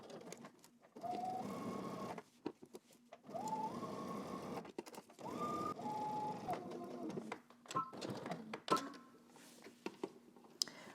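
A sewing machine stitches a garment facing for McCall's M8341 in several short runs, each a whirring hum with rising pitch, separated by brief pauses and faint handling noises.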